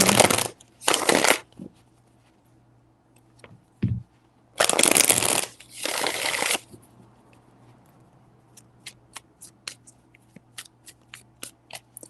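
A tarot deck is shuffled in a few quick riffling bursts up close, followed by a series of soft, scattered card taps and flicks.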